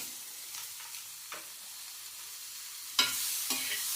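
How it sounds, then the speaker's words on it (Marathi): Green pigeon pea masala roasting in a pan makes a faint, low sizzle punctuated by a few brief stirring scrapes, with a louder scrape burst near the end; no voices. "भाजायला लागलाय"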